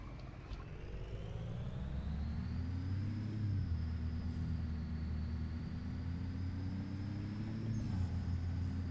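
Scania 111 truck engine in Euro Truck Simulator 2 pulling a seven-axle B-train, a steady loud diesel rumble that rises in pitch as it accelerates, with brief dips around gear changes.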